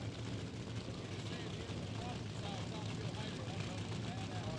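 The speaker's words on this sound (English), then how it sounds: "So these drivers will pre-stage and bring the RPMs up" Drag racing cars rev their engines at pre-stage during the California HotRod Reunion, a distant, continuous rumbling roar with rising engine tones, heard faintly under talk.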